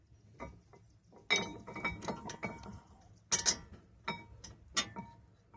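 Ratcheting and metallic clinks as bolts go back into the front brake caliper of a 2010 Dodge Grand Caravan, several irregular close bursts with short pauses between them and no talking.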